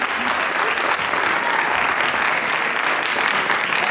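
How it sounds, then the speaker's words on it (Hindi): Sustained, dense applause from a theatre audience at a stage play performance, steady and loud throughout with no pauses. "उनके लिए जोरदार ताली।"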